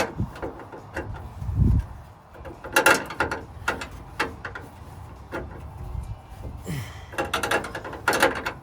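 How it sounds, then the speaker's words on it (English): A line wrench works a fitting on a 1946 Ford, giving faint metallic clicks, scrapes and ratcheting taps at an uneven pace, close by, with no talking. "Always the proper line wrench."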